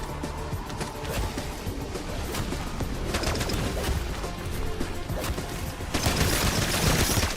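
Gunfire in Black Ops 6 zombies mode, rapid repeated shots in a dense fusillade from close by, heavier and louder in the final second, with no talk.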